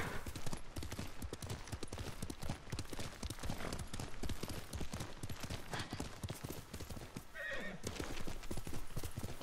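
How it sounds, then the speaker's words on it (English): A horse in the Ghost of Tsushima video game gallops in fast, continuous hoofbeats and lets out a whinny partway through, loud and close throughout. "Oh, horse, what did you just jump over?"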